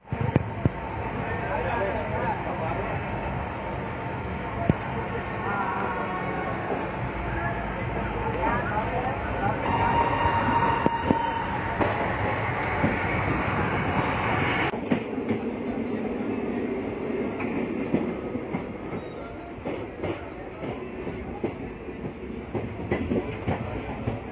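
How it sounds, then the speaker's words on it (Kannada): Siddaganga Express superfast intercity train running between Davanagere and Harihar, heard from inside a carriage: a continuous close rumble with rhythmic wheel clatter over the rails, a brief high whine midway, under occasional talk. "ದಾವಣಗೆರೆಯಿಂದ 12 ಕಿಲೋಮೀಟರ್ ಟ್ರಾವೆಲ್ ಮಾಡಿದ್ಮೇಲೆ ನಮ್ಮ ಟ್ರೈನ್ ಇವಾಗ ಸೇರ್ಕೊಂಡಿದೆ ಹರಿಹರ ರೈಲ್ವೆ ಸ್ಟೇಷನ್"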